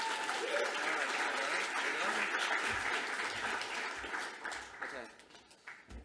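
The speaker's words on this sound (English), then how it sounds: "So a round of applause for Craig Foster." Audience applause at the opening of a 2023 festival welcoming Craig Foster, a dense wash of clapping that fills the room and tapers off toward the end, with some crowd voices mixed in.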